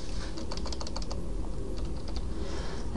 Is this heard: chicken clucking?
no